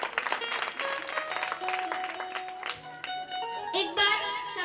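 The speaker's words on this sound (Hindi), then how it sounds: "तो उनके लिए भी एक बार और जोरदार तालियां।" An audience at a Bhagwat Katha religious gathering in Bisapur Kalan claps steadily, mixed with tonal music and voices at moderate volume, swelling briefly near the end.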